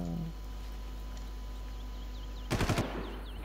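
A short burst of automatic gunfire from the Far Cry video game, a few rapid shots late in the clip over a steady low game background hum.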